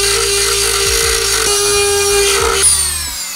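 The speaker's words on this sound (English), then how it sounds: "So to solve the whole motherboard issue, we'll use the Dremel" A Dremel rotary tool cuts into a computer motherboard, a loud, steady high-pitched whine with a shifting grinding edge that carries on without a break, close to the listener.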